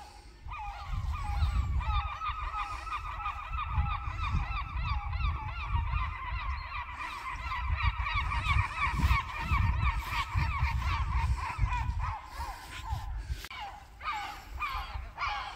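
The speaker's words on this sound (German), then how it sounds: "hier stehen heute die Möwen auf dem Wasser" A large flock of gulls standing on frozen water at Mönkebude keeps up loud, dense calling with overlapping honking cries that run steadily for the whole stretch, with no talking.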